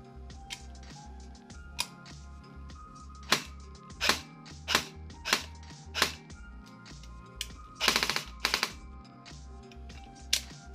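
An AKS-74U electric airsoft gun on a partly charged battery fires in single sharp cracks and one quick full-auto burst, loud and close over a steady low mechanical hum.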